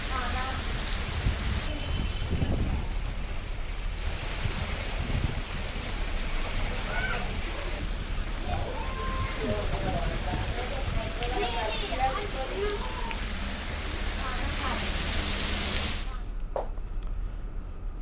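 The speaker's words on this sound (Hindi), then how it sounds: "तो बिलासपुर में तेज बारिश से मौसम खुशनुमा और अपेक्षाकृत ठंडा हो गया है।" Heavy rain pours down in Bilaspur, a steady broadband hiss of drops on surfaces lasting the whole stretch, with indistinct voices mixed faintly in before it cuts off near the end.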